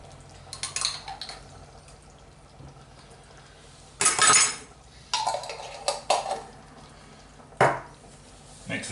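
A pan of creamy whole-grain mustard sauce being stirred, with a few scraping and clinking bursts of a utensil against the pan between quieter stretches, close and moderately loud.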